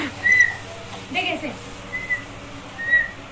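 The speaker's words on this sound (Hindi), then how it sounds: "मुंह से साउंड नहीं निकालना सीटी बजानी है" A person tries to blow a whistle-like sound, producing three or four short, thin, high tones spaced about a second apart, with brief spoken words mixed in.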